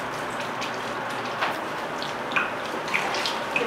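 R&B Brewing Sun God Wheat Ale pours from a plastic 2-liter bottle into a roasting pan holding leftover fig and apricot, a steady close splashing stream with small bubbly pops near the end.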